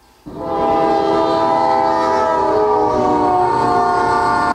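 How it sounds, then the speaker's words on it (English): A train on a railroad track right beside a dorm room sounds its horn, a loud, sustained, close blare that begins abruptly and holds for several seconds over the rumble of the passing cars. "Hold up guys, the train's coming by."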